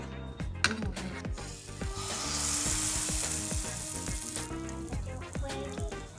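A pancake sizzles in butter in a hot pan, a steady close frying hiss that swells in the middle, with several light metallic taps and clinks from stirring or the pan and no talking.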